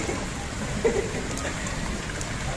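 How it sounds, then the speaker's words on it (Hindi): Light rain falls steadily outdoors near a house where water is pooling, a soft continuous patter with no talk. "लेकिन आज बारिश जो है ना वो आहिस्ता आहिस्ता हो रही है"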